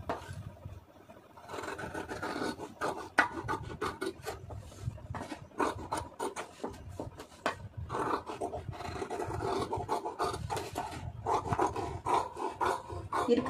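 Scissors cut through blouse fabric for a normal blouse pattern, giving a continuous, close rasping and scraping with dense repeated snips that runs steadily through the whole stretch.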